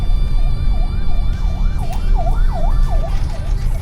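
An ambulance siren wails in a fast, repeating up-and-down cycle, fairly close and loud over a low rumble of traffic, with no voices.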